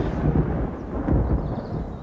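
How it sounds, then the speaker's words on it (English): Low, rumbling thunder rolls steadily for a couple of seconds, deep and heavy, swelling slightly partway through. "You hear that thunder?"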